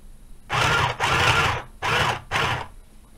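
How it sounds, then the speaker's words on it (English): A mini sewing machine stitches scrunchie fabric in four short bursts of buzzing whir separated by brief pauses, close and loud, with no talk. "lower the presser foot and continue to sew to the end"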